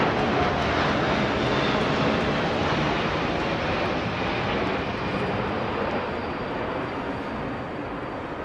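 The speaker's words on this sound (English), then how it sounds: "we're seeing the C-17 Globemaster, our long-range strategic heavy lift transport, and behind it the BAE 146" A C-17 Globemaster heavy transport and a BAE 146 jet flying past at an RAF flypast, a steady loud broadband engine roar that fades slightly toward the end.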